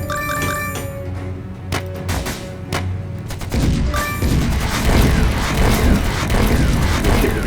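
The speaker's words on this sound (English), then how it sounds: "Good hit with the artillery." Artillery strike explosions in the trench-warfare game Stickman Trenches: dense broadband booms and crashes, with a sharp burst of heavier blasts midway, layered over steady battle noise and a faint game tone.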